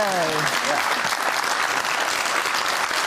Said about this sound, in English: thought that might get a round of applause